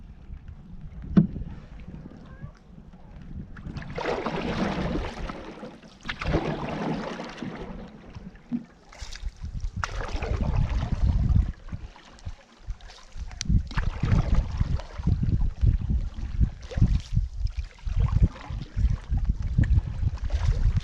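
A canoe is paddled on Loch Ard in the Trossachs. Soft splashes and water swishes come in irregular bursts, with gusts of wind noise on the microphone between strokes and no talking.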